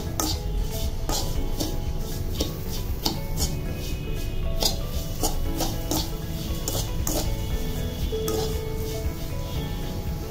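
A spoon stirring condensed milk into a semai vermicelli mixture for Eid semai barfi, with repeated scraping and clinking against the pan at a steady rhythm close by.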